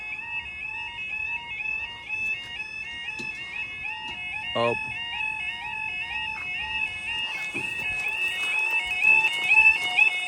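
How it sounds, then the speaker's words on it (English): A repeating two-tone electronic level crossing alarm at Noose Lane rings steadily and loudly throughout, with a short exclamation and some background noise underneath. "The alarm's working again."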